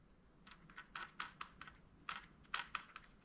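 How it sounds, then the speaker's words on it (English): A baitcasting reel with a loosened tensioner knob gives a series of faint, quick clicking rattles as its spool shifts side to side, in two short bursts. "That's side-to-side movement in the spool."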